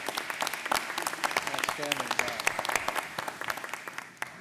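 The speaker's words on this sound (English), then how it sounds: "my first request would be to give Tammy a round of applause" An audience at a discussion event applauds, a dense steady clapping that fades slightly toward the end while a speaker talks over it.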